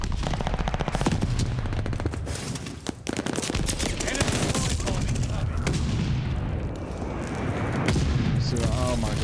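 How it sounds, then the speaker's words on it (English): Rapid automatic shotgun fire in a video game, dense bursts of loud gunshots and booms running nearly the whole time with hardly a pause. "they got an automatic shotgun on it too"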